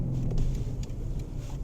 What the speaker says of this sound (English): you can hear by the rev matching downshifting there that this has a very spirited drive to it